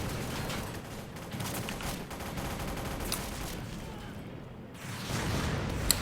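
Pistol and other gunfire crackle through a busy battle in the multiplayer game Empires on the emp_canyon map, shots and distant booms scattered over a constant noisy backdrop, with a voice talking faintly underneath.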